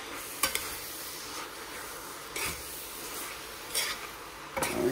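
A spoon scrapes and clinks a few times around a pot of Jamaican callaloo, the stirring soft and fairly close over a faint sizzle.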